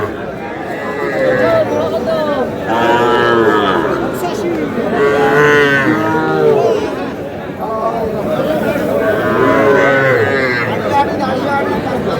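A four-month-old bull calf and other cattle moo repeatedly at a Madaripur cattle market, several long, drawn-out lows rising and falling close by, with people chattering and bargaining around them.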